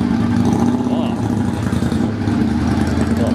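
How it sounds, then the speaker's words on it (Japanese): A motorcycle goes by on a street in Akita, a steady mid-pitched engine drone that holds loud and close throughout, with a voice heard over it. "ああバイク来たよ、バイクから来た。"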